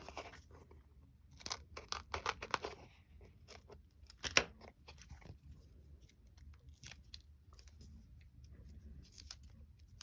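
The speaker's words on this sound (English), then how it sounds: "I'm going to use my foam sheets and cut down a long strip right there" Scissors snip along a long strip of craft foam sheet for a handmade card, a quick cluster of close crisp cuts followed by scattered lighter snips and rustles.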